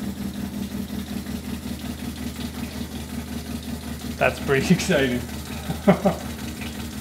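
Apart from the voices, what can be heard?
RV water pump running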